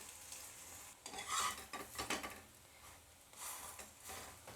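Lachha paratha frying in a lightly oiled pan gives a soft, close sizzle with intermittent scraping and stirring bursts, fairly quiet overall with no voices.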